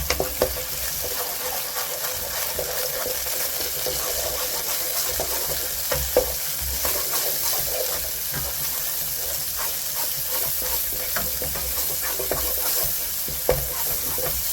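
Scallions sizzling in a hefty amount of oil with soy sauce in a pan for fried rice, a loud, steady hiss and crackle lasting throughout with occasional sharper spits and clanks, close up, no talk.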